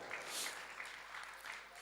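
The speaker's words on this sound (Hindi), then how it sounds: "तालियां बजा दीजिए।" An audience at a talk claps together, a faint, continuous patter of many hands lasting a couple of seconds.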